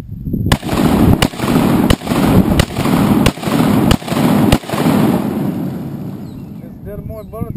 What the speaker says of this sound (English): Shoot the Russian AK-47.